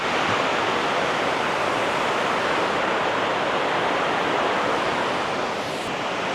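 Stream water rushes continuously over a weir, a loud, even roar of flowing water with no pauses or voices.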